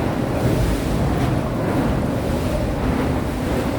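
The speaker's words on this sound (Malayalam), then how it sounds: "തിരമാലകൾ ഇങ്ങനെ ഈ റോക്കിൻ്റെ അടിവശത്ത് ഇങ്ങനെ ചുംബിക്കുകയാണ്" Sea waves wash against the base of rocks near James Bond Island in a steady, loud, churning roar with wind buffeting the microphone and no voices.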